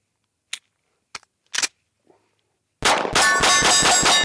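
A KOR FX-9 RP 9mm pistol is fired at steel targets: a few sparse, distant metallic clangs ring out, then a rapid, loud string of shots and pings runs continuously to the end.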